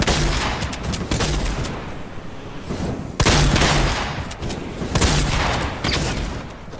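Rapid bursts of automatic gunfire fill a Fortnite match, loud and nearly continuous, with sharp individual shots and heavier booming hits breaking through the dense fusillade.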